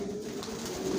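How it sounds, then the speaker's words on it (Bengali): Johnson grizzle racing pigeon chicks coo close by: a steady, low, humming call that holds for about a second against quiet background noise. "অরিজিনাল রেসার জনসনের লংয়ের কবুতর দিয়ে শর্ট মিডল লং সবভাবে রেস করা যায়"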